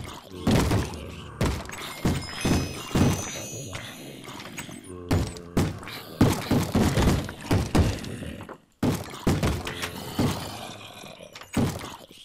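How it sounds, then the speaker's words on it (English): Heavy thuds and crashing bangs from video game zombies banging on doors, irregular and loud, with brief breaking clatter in between. "Love the sounds of doors banging so much"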